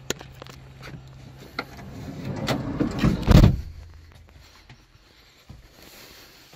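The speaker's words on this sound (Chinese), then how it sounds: "好，我们把门关掉。" A camper van's door slides and thuds shut, a rising rumble building to a loud closing knock, then quieter room tone with a few faint clicks.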